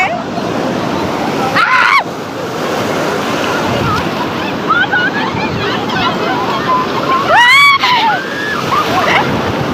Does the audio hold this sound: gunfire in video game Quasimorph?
no